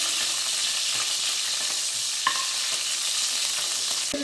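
Constant loud sizzling of four chopped onions frying in hot oil, with a faint clink near the middle and end.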